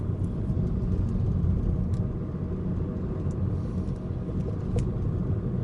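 A Chevrolet Aveo 1.6 hatchback with a manual gearbox cruises in second gear at about 60 km/h, giving a steady, loud low engine and road rumble with faint higher road noise and no talking.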